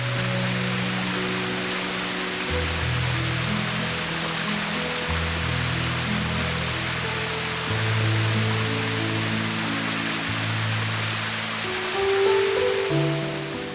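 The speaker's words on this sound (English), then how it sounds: "I came across this little waterfall that I thought was cute" A small mountain waterfall pours with a steady, close, broadband rush, continuous throughout with no voices.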